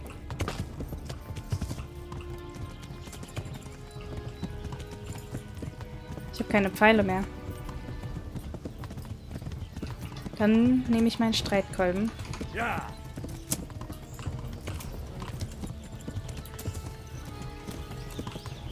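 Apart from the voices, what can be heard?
horse hooves clip-clopping while riding, Kingdom Come: Deliverance video game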